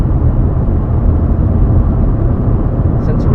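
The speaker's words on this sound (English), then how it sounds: "Probably hear the noise now from the car." A low-power car engine strains uphill in low gear, heard from inside the cabin as a loud, constant droning rumble that fills the whole clip.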